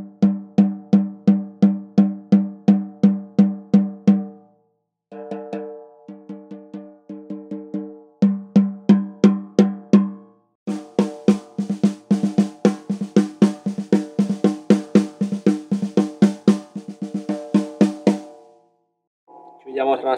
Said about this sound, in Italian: Sentiamo come suona questo rullante il 16 di febbraio.